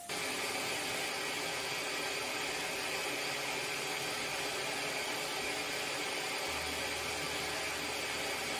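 A fused glass platter is sandblasted, giving a steady, loud broadband hiss of blasting grit that runs unbroken for the whole stretch, with a faint low hum of machinery beneath it.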